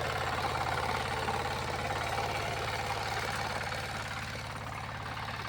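A mini power tiller engine runs steadily while ploughing muddy paddy land, a continuous low, knocking mechanical drone at moderate distance with a slight easing in loudness toward the end.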